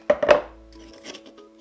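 A blade cuts through a thin plastic container holding a set concrete planter, giving a few sharp close scraping slices followed by a quieter rustle of plastic.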